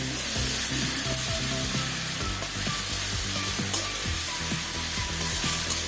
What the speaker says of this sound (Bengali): তো আবারও আমি সবগুলি একসাথে ভালোভাবে ভেজে নেব।